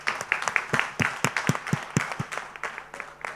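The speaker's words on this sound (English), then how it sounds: "round of applause." Audience applause at a live education launch event in Mumbai, a fairly sparse burst of hand clapping with distinct individual claps that thins out toward the end, heard alone without talking.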